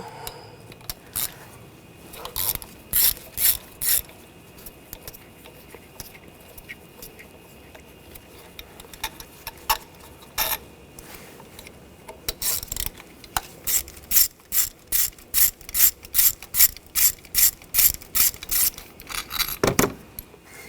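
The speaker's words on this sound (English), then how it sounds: "Using a T30 socket, take these bolts out." A ratchet with a T30 socket loosens the ignition coil bolts on a 2013-2022 Buick Encore, giving close, loud bursts of rapid clicking in repeated strokes with short pauses between them.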